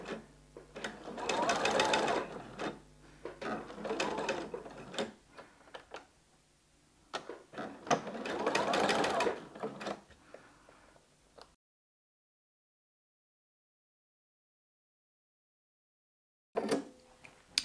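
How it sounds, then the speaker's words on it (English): A sewing machine stitches a waistband onto a midi skirt with a 3/8-inch seam and back tacks, running in two long whirring bursts, falling silent for several seconds, then starting again briefly at the end. "I'm going to back tack to secure the seam and sew it with a 3/8 of an inch seam"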